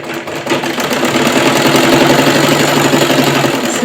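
A sewing machine stitches kurti fabric with a loud, close, steady mechanical whir and rapid rhythmic chatter that runs unbroken for a few seconds, with no talking.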